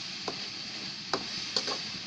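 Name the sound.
sautéing vegetable sabzi with salt in a pan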